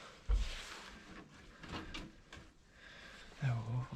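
An old door in an abandoned WW2 training aerodrome building in Scotland being closed: a scraping creak with a dull thump near the start and another knock toward the end, under faint background sound.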